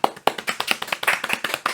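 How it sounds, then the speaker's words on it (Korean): A brief burst of applause, a small group clapping quickly and unevenly, close and lively. "응원의 박수를 보내드리겠습니다"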